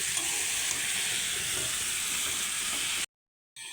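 Silver carp and drumstick curry, with a splash of water added, sautés in a pan. A loud, dense hiss and sizzle runs continuously, then cuts out suddenly before starting again.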